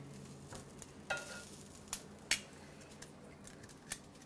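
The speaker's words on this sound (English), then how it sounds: "Let's flip the kielbasa." Kielbasa sausage frying in a pan, a soft sizzle punctuated by a few sharp scrapes and clicks of a utensil as the pieces are flipped, fairly quiet and close.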